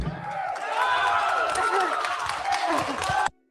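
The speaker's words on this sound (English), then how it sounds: "But they're applauding for nonsense." An audience applauds and cheers in a large crowd, dense continuous clapping holding steady at full volume before cutting off abruptly near the end.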